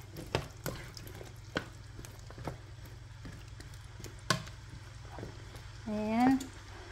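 Potatoes stirred into a pot of pork caldereta, with scraping spoon clacks and light sizzling over a steady low hum of the stove, and a brief voice rising near the end.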